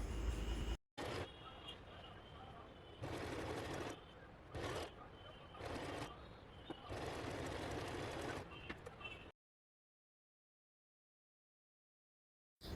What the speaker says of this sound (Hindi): तो चलिए स्टिच कर लेते हैं।